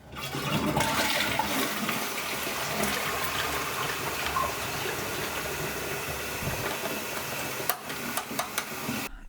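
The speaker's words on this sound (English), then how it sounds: "the flush button here" A Toto Washlet Japanese-style toilet flushes from its button, a loud rushing swirl of water that runs steadily for several seconds before a few gurgles and clunks as it settles.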